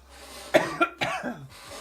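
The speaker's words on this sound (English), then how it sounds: "Hold on, I got a cough." A few sharp coughs in quick succession, close and fairly loud, with quiet room tone between them.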